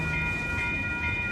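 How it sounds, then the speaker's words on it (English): An Amtrak Coast Starlight passenger train, led by an ALC-42 locomotive, passes 98th Avenue in Oakland on a rainy day, giving a steady rolling rumble with a faint sustained tonal whine throughout. "Amtrak train number 11, Cold Starlight. This train is headed to Los Angeles."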